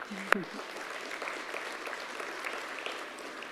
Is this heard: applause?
yes